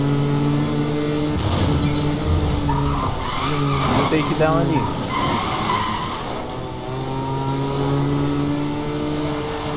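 A race car in the Need for Speed Most Wanted (2012) video game drones loudly and steadily, with a burst of tire skidding in the middle of the clip. Someone talks briefly over the engine noise.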